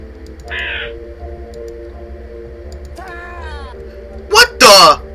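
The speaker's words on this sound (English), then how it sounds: "Crow!" A crow caws in a video game, two loud harsh calls near the end, rising over a steady droning game background with a brief electronic tone before them.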